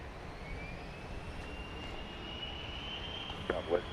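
A jet airliner rolls for takeoff at Dallas Love Field, a sustained distant engine roar with a faint rising whine running throughout, and a couple of brief knocks near the end.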